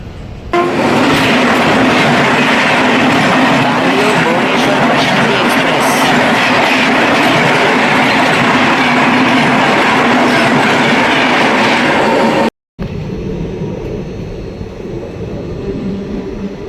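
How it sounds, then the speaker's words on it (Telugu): Simhadri Express running through steady rain and pulling into Pithapuram station, with a loud continuous rumble and clatter of the cars close by, broken by a brief cut near the end before a quieter stretch. "ప్రస్తుతం మనం పిఠాపురం రైల్వే స్టేషన్లో అయితే అరైవ్ అవుతున్నాం."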